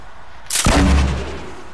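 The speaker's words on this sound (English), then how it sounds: "I got sniped at from like that direction down there" A single loud sniper shot cracks out in Fortnite Battle Royale, a sharp close report followed by a booming low rumble that trails off over about a second, with no talking.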